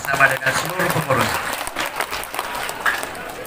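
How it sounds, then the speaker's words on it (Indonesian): Audience applause at a boarding school inauguration and graduation ceremony in Jeneponto, honoring Pak Rahmat and the school staff, a broad wash of clapping mixed with talk and crowd noise, steady then fading slightly. "Tepuk tangan dulu untuk Pak Rahmat bersama dengan seluruh pengurus"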